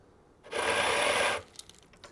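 A Quamar Sirio-Q grinder grinds espresso coffee in one loud, steady whirring burst of just under a second, then cuts off, leaving a few light clicks and taps.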